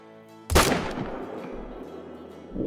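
A single loud rifle shot fired at a buck in the hunting game Call of the Wild, a sharp close crack followed by a long fading rumble and quiet ambience.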